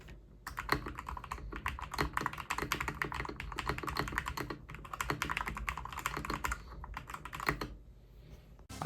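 Fast, continuous typing on a stock Akko 3061S HE gaming keyboard, a steady stream of close, crisp key clicks with a couple of brief pauses, heard alone without talking.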